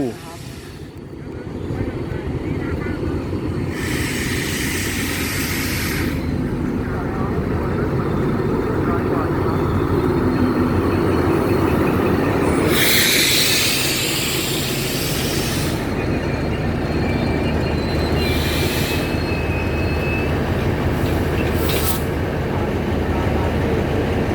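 Alstom diesel locomotive 4136 with an MTU engine hauls CNR passenger cars on a Thai express at Bang Sue, giving a loud, continuous engine roar and rolling rumble with occasional hissing bursts.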